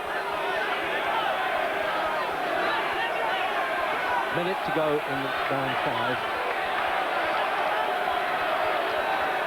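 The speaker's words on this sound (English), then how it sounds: "Crowd really baying here" Boxing crowd at the 1990 Benn versus Eubank fight, a dense, constant roar of voices from a packed arena, with a commentator speaking briefly over it.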